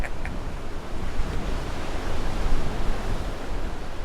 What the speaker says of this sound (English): that water and waves